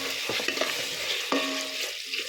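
Ginger garlic paste, two spoonfuls, sizzles and is stirred into an oily taro (chama gadda) curry gravy: a steady frying hiss broken by sharp scraping stirs, close and fairly loud, with no speech.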